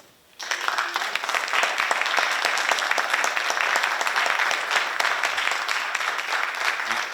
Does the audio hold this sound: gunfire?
no